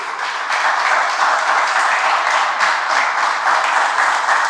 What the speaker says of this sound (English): A round of applause for our new episode.